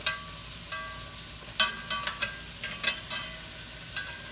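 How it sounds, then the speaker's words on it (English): Oxtails searing in a hot pan, a soft background sizzle punctuated by several sharp spatters and scraping bumps as the pieces are turned, close and without talk. "we're gonna sear these out, turn them over, brown them on each side"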